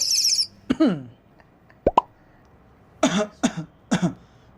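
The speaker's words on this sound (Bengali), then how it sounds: "আমাদেরও তো কাশি হচ্ছে" Several people cough in short, harsh bursts, with a couple of isolated coughs early on and then a quick cluster of three near the end, all fairly close.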